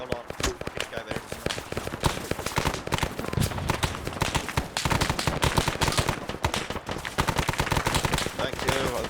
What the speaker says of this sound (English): He's shooting through the little slits right there.